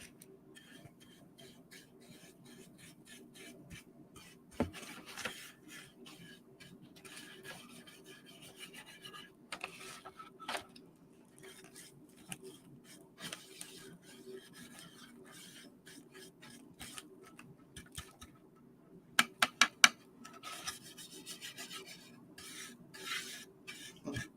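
A gold pan holding black sand is swirled during a late-night panning session, giving a soft, continuous gritty rasp of sand rubbing metal with a few sharper knocks near the end.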